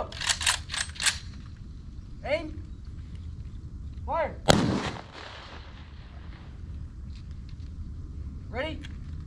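Ceremonial rifle volley fired on command at a memorial motorcycle ride event, a sharp loud report standing out alone amid crowd ambience, with shouted commands and bird-like whistles around it.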